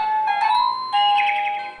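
A CACAZI A10 wireless doorbell receiver, plugged into a living-room socket and set to maximum volume, plays a bright electronic chime melody of sustained tones, loud and close with no one talking.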